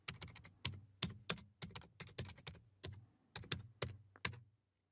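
Typing a command on a computer keyboard: a quick run of crisp, close key clicks in an uneven rhythm, about twenty strokes over a few seconds, quiet and alone, ending in silence.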